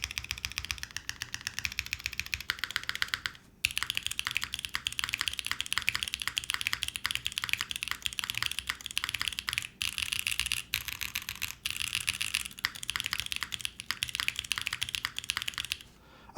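Rapid, continuous keystrokes clatter on a TG67 custom mechanical keyboard build, a steady dense stream of crisp clicks with a brief pause partway through, close and clear with no talking.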